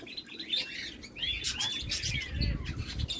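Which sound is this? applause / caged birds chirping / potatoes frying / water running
caged birds chirping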